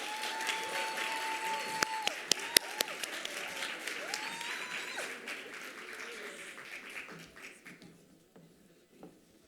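Applause from the audience at a college top achievers awards ceremony for a chess team, steady clapping with a few sharp close claps and a voice through it, tapering off and fading out near the end.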